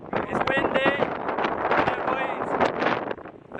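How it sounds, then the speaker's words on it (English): Strong wind gusts at a tower in Kraków, buffeting the microphone with steady, loud rumbling while people talk over it close by. "It's windy."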